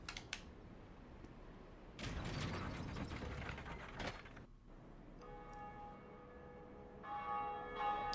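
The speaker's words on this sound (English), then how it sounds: "we just rang one of the Bells of Awakening" A church bell rings in Dark Souls, the Bell of Awakening, with mechanical ratcheting and gear clatter as it is struck, followed by a sustained metallic ringing tone that lingers and swells again near the end, with no talking.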